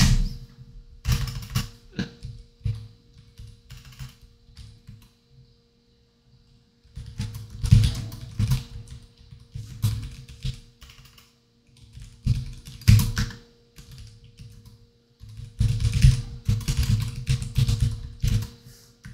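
Someone types on a computer keyboard in short, irregular bursts of close, clicky keystrokes separated by pauses, with no talk over them.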